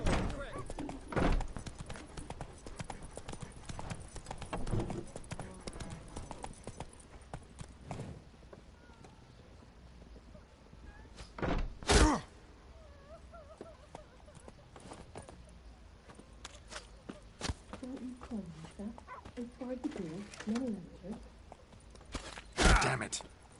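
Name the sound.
horse Roach trotting in video game The Witcher 3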